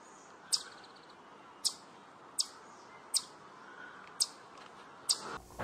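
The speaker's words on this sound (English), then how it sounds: "Now the place is thick with wrens and sparrows, cardinals splashing in an array of bird showers and bird baths" Backyard garden birds such as wrens, sparrows and cardinals around bird baths and showers give short, sharp chirps. The chirps repeat about once a second over a quiet, hissy background.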